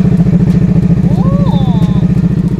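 A Honda Rebel 500 fitted with an imitation Scorpion exhaust idles loudly nearby with a steady, pulsing lumpy throb, while a person speaks briefly over it.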